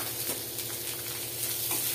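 Finely chopped onions fry with lentils in a pan, a steady close sizzle with faint crackles and occasional stirring scrapes, continuous and unbroken.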